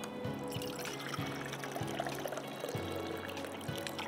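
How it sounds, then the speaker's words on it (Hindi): Water pours steadily into a measuring cup while making halwa, a continuous close trickle with brief breaks between pours and no speech. "तो हम पानी लेंगे 2 कप।"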